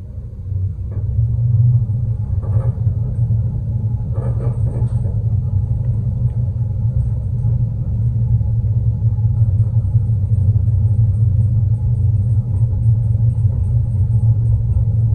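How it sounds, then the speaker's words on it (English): Modded OTIS high-rise traction shuttle elevator at the Marriott Marquis in San Francisco travelling down, a loud steady low rumble and hum filling the car, with a few faint clicks and rattles along the way. "It's a shuttle elevator."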